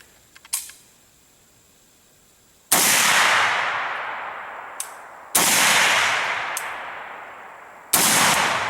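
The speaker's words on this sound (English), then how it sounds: "we're going to be shooting at a distance of about 7 feet" Three single shots from a Krebs Custom AK-103K rifle fired outdoors at close range in hot, humid air, each a sharp, loud blast with a long ringing decay, evenly spaced after a faint click.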